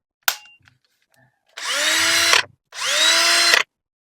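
Makita DF331D cordless drill, fitted with a replacement gearbox, whirring in two loud bursts of about a second each, with a sharp click before them and no talk.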